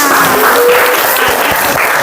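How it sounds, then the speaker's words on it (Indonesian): Classmates in a high school sociology lesson clap for a fellow student, a steady patter of hands filling the classroom with faint voices mixed in. "Tepuk tangan dulu buat temennya."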